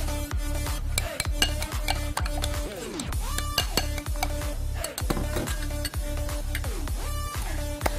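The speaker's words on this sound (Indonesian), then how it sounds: "kocok telurnya dulu" Eggs are beaten in a bowl with quick, steady clicking and tapping of a whisk or fork against the sides, close and continuous.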